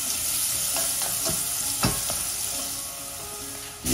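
Vegetables and onion roast in a pan for braised Barbary duck leg, a steady close frying hiss with a few stirring scrapes and spatula taps, swelling briefly at the end.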